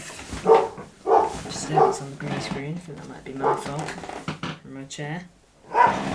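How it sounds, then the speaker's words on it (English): Dogs bark and yip in the background of a home setting while someone talks over them, the barks coming in short bursts between and under his speech. "Sorry about the dogs again."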